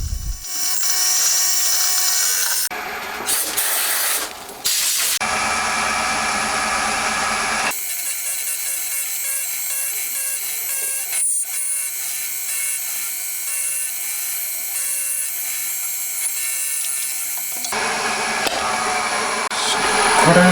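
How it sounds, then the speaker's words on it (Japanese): An end mill on a CNC machine cuts a step by circular interpolation while making a motorcycle top bridge for a Honda RC146 replica, giving a loud, continuous high whine and hiss with shifts in tone and brief breaks. "サーキュラー回しながらエンドミルで削ってます"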